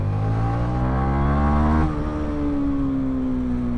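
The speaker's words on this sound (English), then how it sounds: "That's a stock exhaust." A Yamaha MT-125 motorcycle with its stock exhaust revs steadily with a rising harmonic drone, then drops slightly in pitch and holds a constant idle-to-mid rev, loud and close.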